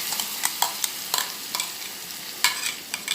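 Ground fresh coconut chutney with green chillies and curry leaves fries in a little oil, a soft sizzle broken by repeated close spoon scrapes as it is stirred, with no voices.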